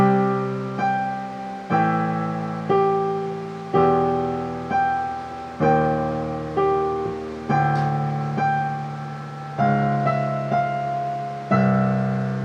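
A solo piano plays the jazzy closing line of a piece, moderate and clear, with a series of struck chords and melody notes that ring and decay, ending on a sustained final chord.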